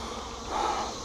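Honey bees disturbed during a nuc transfer buzz around the box, a faint, low hum that swells briefly midway, heard alone without talk.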